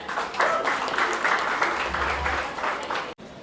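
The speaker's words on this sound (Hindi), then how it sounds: "जोरदार ताली हो जाए" Applause from an audience at a product demonstration in Nashik, a steady wash of clapping that carries on for a few seconds before cutting off abruptly.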